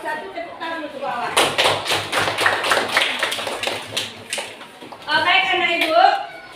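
A group bursts into brisk classroom applause, dense clapping lasting a few seconds, with a voice speaking before and after.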